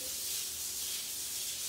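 Sandpaper rubbed by hand over a Palladio surface, a steady, soft, close hissing scrape with no pauses.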